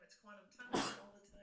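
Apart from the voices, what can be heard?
sneeze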